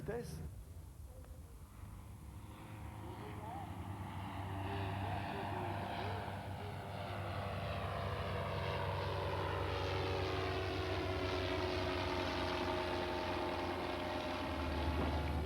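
A 1927 Morane-Saulnier 138 airplane's propeller engine drones steadily and builds in loudness, with a voice speaking over it.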